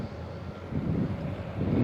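A KLM airliner taxis past at Schiphol airport, a faint low jet-engine rumble and whine that swells slightly as it rolls by, with some wind noise.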